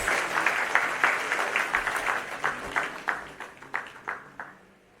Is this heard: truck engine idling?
no